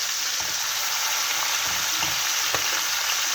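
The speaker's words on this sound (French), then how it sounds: "faire bien dorer la viande" Chicken pieces brown in hot oil for an olive and preserved lemon tajine, a dense continuous sizzle with a few soft knocks of stirring, close and alone without any voices.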